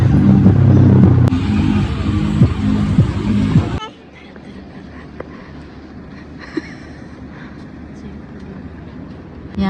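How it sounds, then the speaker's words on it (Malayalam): A bus engine rumbles heavily during a ride, loud and deep at first, then drops suddenly to a quieter, steadier drone with faint rattles and scattered knocks. "യാമി ആദ്യത്തെ ബസ്സിൽ കയറുന്നത് എക്സൈറ്റ്മെന്റ് ആണ്."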